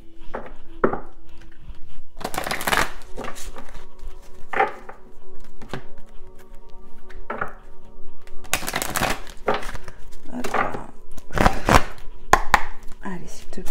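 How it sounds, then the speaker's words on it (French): A deck of cards is shuffled by hand in bursts of riffling and slapping, separated by pauses, close and fairly loud against a quiet room. "je vais mélanger un petit peu le jeu"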